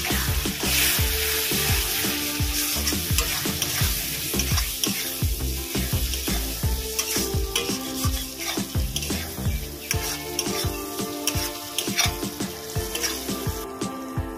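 A turmeric and salt spice masala sautés in hot oil for a Bengali chicken dish, a loud dense sizzle with rapid, repeated scraping stirs close by throughout.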